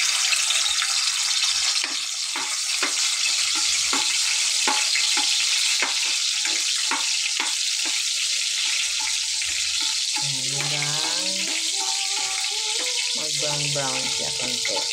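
Garlic sautés in a pan for a sardine and pechay stew, a loud, close, continuous sizzle with scraping stirs, and a voice briefly talks over it near the end.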